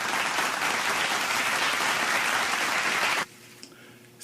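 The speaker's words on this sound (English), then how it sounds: "You all deserve a round of applause." Loud, steady applause from an audience at a school Read for the Record reading event, clapping continuously for about three seconds before cutting off abruptly to near silence with faint room noise.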